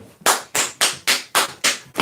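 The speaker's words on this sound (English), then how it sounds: "Put some bass in that clap." A man claps his hands in a steady rhythm, seven sharp, loud claps about a quarter second apart, close by with no talking.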